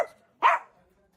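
A single dog bark rings out near a temple in Almora, Uttarakhand, one sharp, fairly close yelp after a faint earlier sound, followed by quiet.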